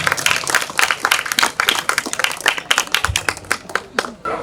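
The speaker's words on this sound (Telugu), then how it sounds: "ఒకసారి గట్టిగా చప్పట్లు కొట్టండి." Audience at a Telugu community event or ceremony clapping loudly and steadily, a dense burst of many hands close by with uneven sharp peaks throughout.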